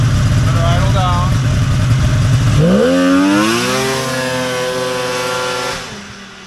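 A vintage Polaris XLT 600 triple snowmobile engine is revved hard, rising steeply in pitch, then holds and settles back down toward idle. It is loud and close throughout.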